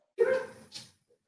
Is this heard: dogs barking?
yes